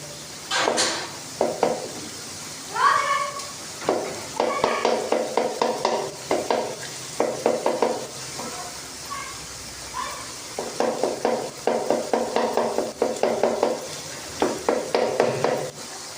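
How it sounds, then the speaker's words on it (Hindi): Tomatoes are stirred and mashed in a pot while making chicken handi, giving repeated rhythmic scraping and squelching strokes in quick bursts, close up and without talk. "अच्छे तरीके से हम इसे मिक्स करेंगे और इसका पानी खुश्क होने देंगे हम"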